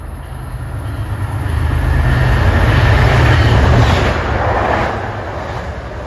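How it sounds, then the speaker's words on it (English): MBTA commuter train 827 from Boston to Wickford Junction, running non-stop, roars in fast and passes close, a loud rushing rumble with rail clatter that builds, peaks in the middle and then eases. "approaching fast at 5:10 is MBTA train 827, Boston to Wickford Junction"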